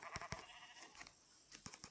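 A sheep bleating in Minecraft, short wavering bleats repeated a few times at moderate volume alongside soft game sounds, no talking.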